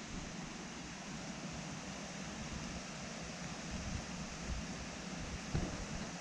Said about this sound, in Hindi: ये एक झरना है